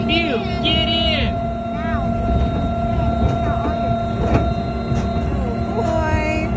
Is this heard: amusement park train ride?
yes